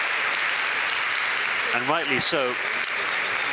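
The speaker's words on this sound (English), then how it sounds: "Saidi Ismailov gets a warm, generous round of applause from all the fans" A table tennis crowd at a singles semifinal of the 2019 Napoli Universiade claps in steady, sustained applause, heard from a distance under a commentator's voice.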